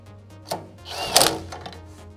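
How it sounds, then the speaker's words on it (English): An impact wrench gives one short whirring burst while running up caster bolts on an SP Tools Sumo Series tool cabinet, the burst framed by a couple of dull thunks in a quiet workshop. "We're going to go and get the impact wrench and run them up without over torquing them."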